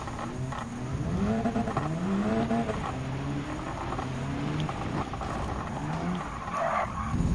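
A Group B rally car racing on a dirt rallycross course in Gran Turismo 7, its engine revving up and down continuously as tires skid and slide on loose surface, loud and close throughout.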